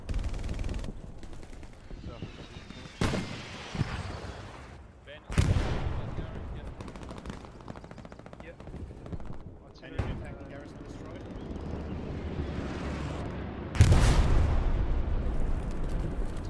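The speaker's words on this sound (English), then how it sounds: "Artillery fire coming in, harassing the Americans." Artillery and gunfire in the World War II shooter Hell Let Loose during a competitive match: heavy booming impacts and blasts spaced every few seconds, with rumbling echoes and steady battlefield noise between them.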